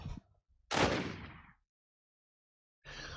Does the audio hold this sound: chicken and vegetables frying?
no